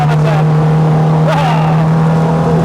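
A cammed, carbureted Peugeot 205 GTi stage rally car drones loudly from close range at a steady engine pitch, with brief bursts of revving. Voices talk over it.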